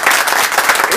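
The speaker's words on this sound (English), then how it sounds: "the large applause is from my female crew" Brief burst of applause from a group of women, close and loud, fluttering claps filling the whole moment.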